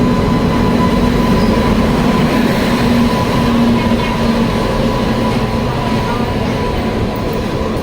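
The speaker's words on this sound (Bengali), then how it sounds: "আমাদের ট্রেন চলে এসছে" The 12311 Netaji Express, bound from Howrah to Kalka, pulls into platform 1 at Bardhaman with a steady, loud rumble and hum of rolling rail cars, continuous throughout, without talk.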